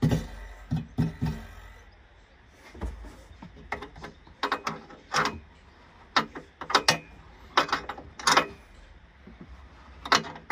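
A socket ratchet tightening bolts on a Front Runner roof rack base deck for a Suzuki Jimny, heard as irregular bursts of clicking and metallic clacks close by, with pauses between strokes.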